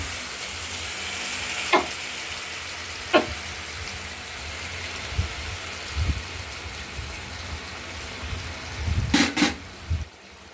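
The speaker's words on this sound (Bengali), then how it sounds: "মশলাটা আলুর সঙ্গে কষিয়ে নিতে হবে" Ground spice paste and potatoes sautéing in a pan for a paneer bora curry, with a steady low sizzle and a few sharp spatula scrapes, the last ones quick and close together near the end.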